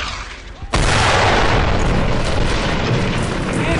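A grenade blast in the WWII shooter Brothers in Arms: Earned in Blood hits suddenly after a quiet moment, loud and close, and its dense roar carries on for several seconds with no let-up.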